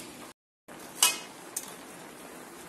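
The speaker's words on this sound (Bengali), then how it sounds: "নাড়তে নাড়তে এইভাবে মজানো হচ্ছে" A spoon stirs potato and vegetable curry in a pan, with a couple of sharp clinks of metal against the pan over a low background hiss and a brief silent gap near the start.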